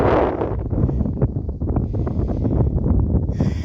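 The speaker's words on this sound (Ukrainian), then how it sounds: "Ой, вітер, бачите, який вітер подув" Steady wind blowing across the microphone in a village vegetable garden in Ukraine, a continuous low rumble and rustle throughout with gusty buffeting.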